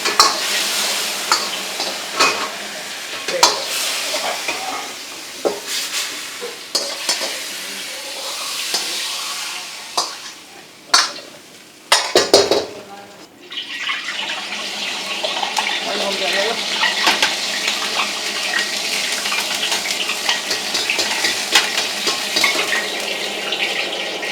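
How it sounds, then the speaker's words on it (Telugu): Ingredients for a Korean corn cheese dog stir-fry in hot oil, with a steady broadband sizzle, bursts of scraping and tossing, and a short dip in the middle before the frying noise returns, continuous and close. "तो इसी टाइप से हर एक आइटम को हम लोग स्टिर फ्राई करेंगे और अलग अलग निकाल लेंगे"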